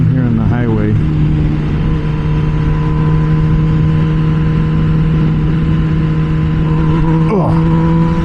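MV Agusta Brutale 1000 RS ridden on a highway: a loud, steady engine drone under heavy wind rush, with quick revs as gears change near the start and again near the end.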